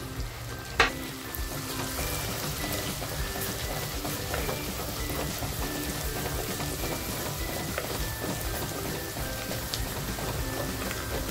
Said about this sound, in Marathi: आता ज्या मिरच्या घेतल्या होत्या ना त्या टाकतेय, थोडी कोथिंबीर टाकतेय,